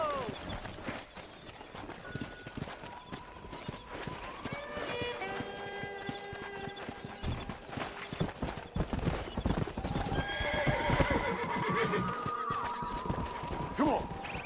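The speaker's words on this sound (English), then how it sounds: "there's a pack of wild horses nearby" Hooves clip-clopping at a gallop with repeated whinnying and neighing from a pack of wild horses in Red Dead Redemption, close and busy, with bursts of music-like tones mixed in.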